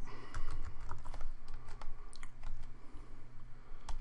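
Quick, light keystrokes typing a folder name on a computer keyboard, close and fairly faint, in a short irregular burst over low room hum.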